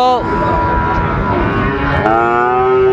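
Cattle, including Shahiwal bull calves, low and moo at a livestock market: one long, loud, close moo fills the span, trailing into a rising call at the end.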